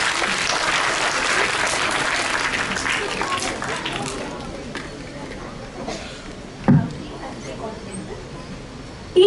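Audience applause at an interclass patriotic quiz competition for a school middle section, a dense burst of clapping that is loud at first, then thins and fades over several seconds, with voices mixed in.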